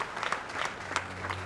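Crowd at a Washington, D.C. airport applauding Alaska veterans arriving on an Honor Flight, steady moderate clapping with a few sharper claps standing out, no voices over it.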